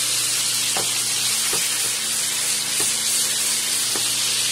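Lamb chops sizzle loudly in a hot pan, a dense close hiss that runs throughout, broken by a few soft scrapes and taps as they are flipped.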